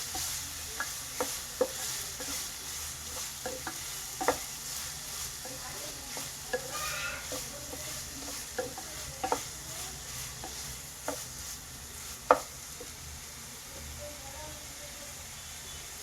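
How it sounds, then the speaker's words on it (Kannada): Chopped onions frying in a pan for dhaba-style aloo palak give a continuous soft sizzle, with a spoon stirring and tapping against the pan at irregular intervals. "ಈರುಳ್ಳಿ ಚೆನ್ನಾಗಿ ಫ್ರೈ ಮಾಡ್ಕೋಬೇಕು."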